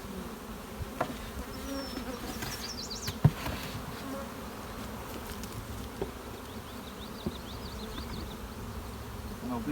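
Steady buzzing of many honeybees around a hive, a continuous drone with occasional closer insects passing by and a few light knocks.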